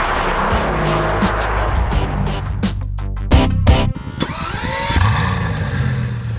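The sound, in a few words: Bugatti Veyron Vitesse car driving on high-speed test track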